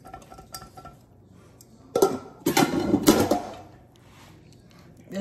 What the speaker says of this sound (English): I remove it from the stove and then I strain it